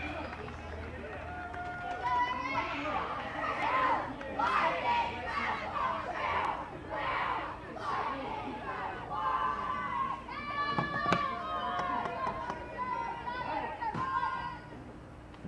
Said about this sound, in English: Nice size crowd here at the field watching this game.